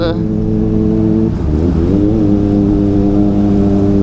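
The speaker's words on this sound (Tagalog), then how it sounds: "dito tayo sa tunnel rev bump" Kawasaki Ninja ZX4RR motorcycle revving inside a tunnel, a loud close engine drone that dips briefly and then rises again in a quick rev bump, echoing under the enclosed roof.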